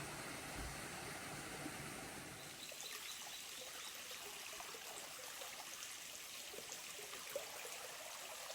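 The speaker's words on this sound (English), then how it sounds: "I'm surprised that there's still so much water running" Running water of a stream along a trail in late summer after a wet winter, a steady close rush and trickle that continues throughout, with faint birds in the background.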